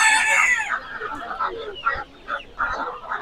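Chickens at a busy poultry market in Sabunchu, with a rooster crowing near the start, then repeated clucking and squawking from several birds close by, no talk.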